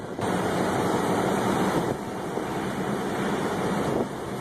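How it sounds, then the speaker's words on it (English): A tornado's strong wind roars as a steady, loud rush of buffeting gusts against the microphone, with no voices over it. "Feel the wind?"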